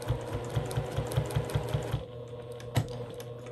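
A sewing machine with a dull needle stitches quilt binding on a table runner in a quick, even run of about ten thumping stitches. It then stops, leaving one more louder knock in a quieter room.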